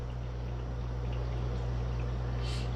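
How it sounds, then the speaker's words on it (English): A countertop dishwasher fills with water, a steady, even rushing wash with a constant low mechanical hum beneath it, continuous and close throughout. "we're filling up with water down here"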